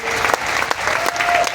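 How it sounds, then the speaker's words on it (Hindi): An audience at a Hindi-language speaking event breaks into steady, enthusiastic applause, a dense, even wash of clapping from many hands throughout the short stretch. "जोरदार तालियां"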